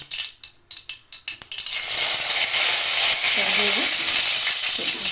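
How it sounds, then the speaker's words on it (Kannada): Curry leaves hit hot oil with popped mustard seeds in a pan for masala stuffed brinjal curry: a few sharp crackling pops at first, then a loud, steady hiss of sizzling frying close by, with no talk. "ಇವಾಗ ಸ್ವಲ್ಪ ಕರಿಬೇವು ಹಾಕ್ಬಿಡೋಣ"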